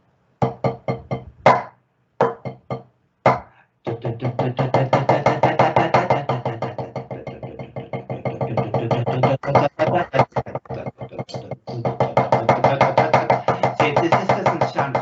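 Rapid, evenly spaced drumstick strokes on a drum demonstrate up-and-down technique with a three-finger grip, played close and fairly loud in steady rhythmic bursts with a few short pauses.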